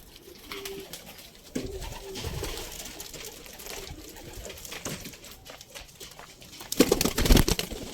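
Pigeons coo in a coop with rustling and shuffling around them, a few short tonal calls, and a louder flurry of movement near the end, with no talking.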